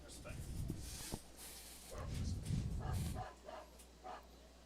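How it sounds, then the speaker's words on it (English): Dogs bark at an evening Valley League playoff baseball game at Front Royal, a few muffled barks in the background while an announcer talks. "we get to hear some dogs barking as the SPCA was here tonight"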